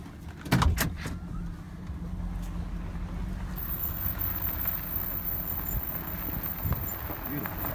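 A car drives slowly down a road through the Pine Cove area, with a steady low engine and tire rumble after a brief knock near the start, continuing evenly throughout.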